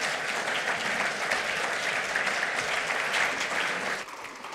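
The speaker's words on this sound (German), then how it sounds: "Applaus" A conference audience at a media-policy meeting on TV satire gives dense, sustained applause that holds steady for several seconds, then thins slightly near the end.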